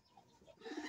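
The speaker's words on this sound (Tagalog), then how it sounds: "ang ibon natin na to ay si Cookie" A pet racing pigeon named Cookie gives a short, soft, throaty coo, close and faint, lasting under a second.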